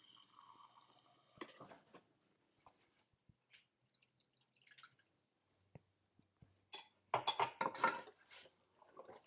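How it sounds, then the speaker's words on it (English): Water poured into a pan of gnocchi being cooked with mascarpone cheese, giving a short burst of splashing and sizzling liquid near the end, after scattered clinks of a utensil against the pan. "Now we're going to add about a 1/4 cup of water to this."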